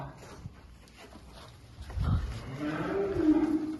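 A cow moos low and close in a village barn, followed by a longer rising bellow, with faint barn noise around it.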